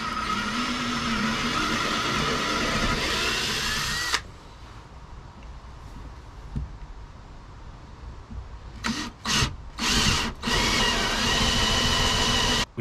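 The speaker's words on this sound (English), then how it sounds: "I'm going to drill a hole first with a small drill bit." A power drill with a small bit bores a pilot hole into wood during a boat floor repair, running loudly for about four seconds, then quieter, followed by several short bursts near the end.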